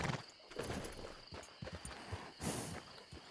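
A horse walks in Red Dead Redemption 2, unhurried hoofbeats thudding close by over outdoor game ambience, with a brief whinny-like burst partway through.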